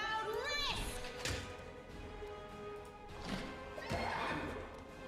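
Horses whinny a couple of times in the Pathfinder video game, high neighs rising and falling amid clattering game effects and a speaking voice.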